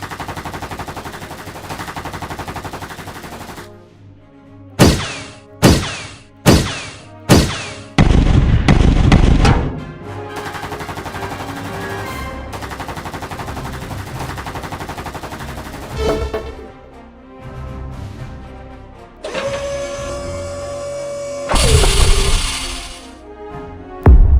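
Gunfire in an animated action fight between robots and an army: a run of single loud shots, then rapid bursts, followed by sustained music-like tones and further blasts near the end.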